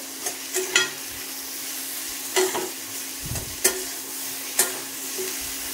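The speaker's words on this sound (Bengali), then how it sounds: "আলু পটলটা দিয়ে দিলাম, দিয়ে একেবারে এটা ভেজে নেবো, কষাবো" Potato and pointed gourd frying in a pan, a steady sizzle broken by several sharp scrapes and clinks of a stirring utensil against the pan, close by and without talk.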